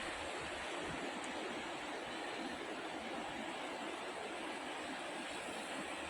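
The Bear River flows at 540 cfs at the edge of a flooded wetland, a soft, continuous broadband rush of moving water with no voices.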